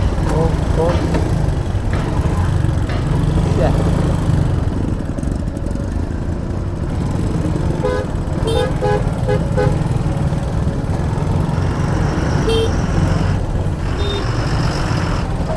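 A congested Mumbai–Nashik highway at Vadpe near Bhiwandi, with potholed roads: a steady dense roar of car, truck and motorbike engines, punctuated by scattered short horn toots near and far, with a voice talking over it.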